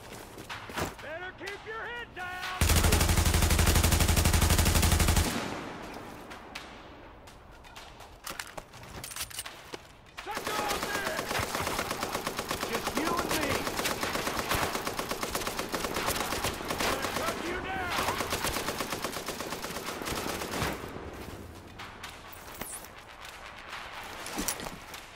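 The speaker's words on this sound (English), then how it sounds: "I don't know what kind of gun that is" Gunfire from an unidentified weapon in Tom Clancy's The Division rattles in bursts and sustained volleys, with a loud harsh blast early on, while a player talks over the game sounds.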